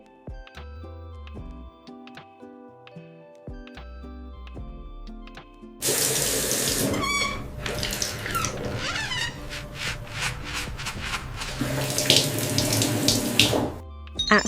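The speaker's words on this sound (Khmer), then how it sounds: "ក្មេងស្រីកំពុងតែងូតទឹក" Running water from a tap pours steadily as a girl bathes, a loud splashing gush starting midway after a quieter musical stretch and continuing to the end.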